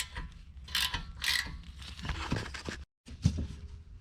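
A ratchet with a 14 mm socket loosening a brake caliper bolt on a Suzuki Kizashi, giving rapid clicking bursts of pawl ratcheting with brief pauses and a short gap, close and fairly loud.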